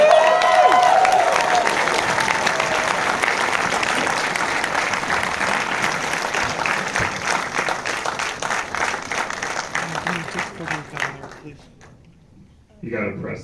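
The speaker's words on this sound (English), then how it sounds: "Clap your hands for him." Audience at a Beau Is Afraid Q&A applauds film director Ari Aster, with dense sustained clapping and some crowd noise that gradually thins out and fades near the end.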